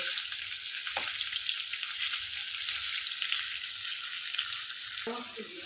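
A piece of fish frying lightly in a pan gives off a steady close sizzle and crackle throughout, with a few faint knocks and a brief stir near the end.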